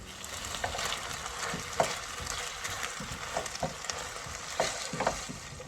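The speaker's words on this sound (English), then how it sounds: "I can quite easily heat them up just in a skillet" Food heats in a skillet on a van stove, a steady close sizzle and crackle with scattered pops and occasional stirring scrapes, no talking.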